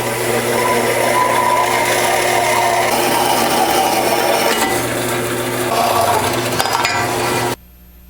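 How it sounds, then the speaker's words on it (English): A Chinese bandsaw cuts and shapes an aluminium intake manifold piece, a loud continuous grinding whir with rasping metal texture that stops abruptly near the end. "We're on the Chinese bandsaw now, and I start shaping this piece"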